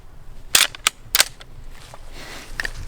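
Gunshots from a Mosin Nagant M44 carbine at a shooting range, three sharp cracks in quick succession followed by fainter distant reports from other shooters.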